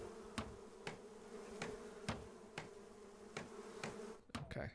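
Bees buzz faintly around beehives in a video game, a continuous low hum punctuated by evenly spaced sharp clicks.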